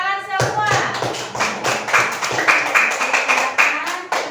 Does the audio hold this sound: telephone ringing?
no